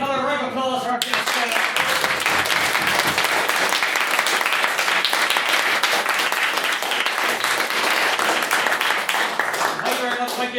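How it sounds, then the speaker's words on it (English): A round of audience applause for the guest astrobiologist at a debate on funding Mars exploration, steady dense clapping throughout after a voice speaks briefly at the start. "Can I get another round of applause for our guest?"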